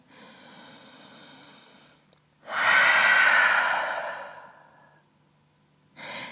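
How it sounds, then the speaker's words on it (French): A deep breath taken during a yoga downward dog pose: a softer inhale, then a loud, long airy exhale that fades out, and another breath starting at the end, close and alone. "on prend une grande respiration"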